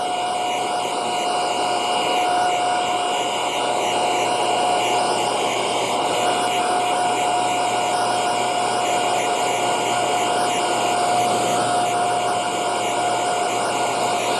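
A hair dryer on a slightly cooler setting runs steadily close by while drying theatrical makeup near the eyes, a continuous loud whir with a fixed tonal whine and no talking.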